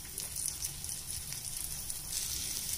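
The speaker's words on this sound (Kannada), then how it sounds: "ಇದನ್ನು 1-30 ಸೆಕೆಂಡ್ಸು ತುಪ್ಪದಲ್ಲಿ ಈ ಥರ ಫ್ರೈ ಮಾಡ್ತೀನಿ" Ginger, cumin and dried Byadagi chillies fry in hot ghee with a steady, soft sizzle and crackle that runs the whole time, close and fairly quiet, no voices.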